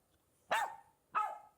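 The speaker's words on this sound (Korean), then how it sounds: "11등은 강아지 소리라고 합니다. 강아지 짖는 소리." A dog gives two sharp, close barks about half a second apart against an otherwise quiet background.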